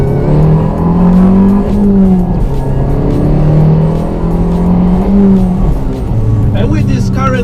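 A small Abarth engine revs close by, its pitch repeatedly rising and falling through several throttle blips, with a few sharp exhaust pops near the end and a voice talking over it.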